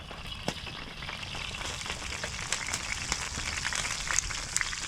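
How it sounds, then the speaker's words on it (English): A 16 oz steak sizzles in oil in a pan over a woodland campfire during heavy rain, a quiet, constant crackling hiss dotted with sharp pops and spits, no voices. "There's the steak cooking there nicely in the oils."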